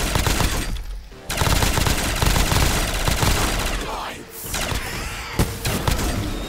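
Automatic gunfire in Call of Duty Zombies on the Space Tower map comes as loud, sustained bursts with short pauses, and voices are heard over the shooting.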